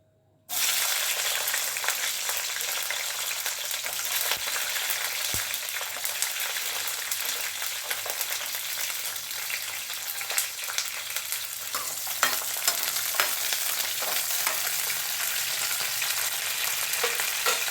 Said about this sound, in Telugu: ఒక 2 minutes ఫ్రై చేసుకుందాం పచ్చిమిర్చిని.